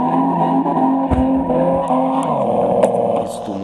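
A car engine drones steadily in a BMW drift game on Android, a Z3 compact, with tire squeal and brief skids layered over the loud, close engine tone.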